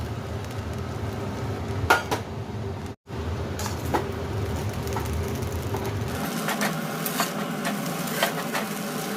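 Chow mein seasoned with Maggi masala is stirred in a pan, a steady frying hiss under repeated utensil scrapes and taps against the pan, close, with one brief dropout partway through.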